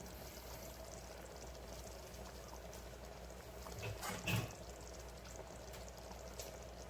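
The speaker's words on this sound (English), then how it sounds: "so now we're gonna add in the shrimp" Shrimp going into a pot of New Orleans-style gumbo after the heat is switched off, giving a short wet splash and plop midway through a steady low background hiss.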